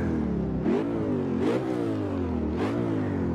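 A Ford Mustang GT4 race car in the racing game Assetto Corsa, heard from outside on the Road America circuit, revs its engine three times, each loud rising roar settling back to a steady idle.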